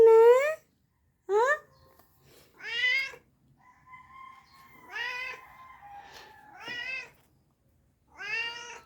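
A hungry pet cat meows repeatedly at close range, with around seven separate cries, some short and some drawn out, separated by quiet gaps and a faint background voice.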